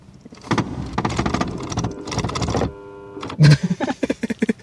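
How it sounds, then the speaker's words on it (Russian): Loud whirring of a Lucid Gravity electric car's motors running in bursts, with a few sharp mechanical clicks and stops toward the end. "под аккомпанемент этих электромоторов можно музыку сочинять, настолько они громкие"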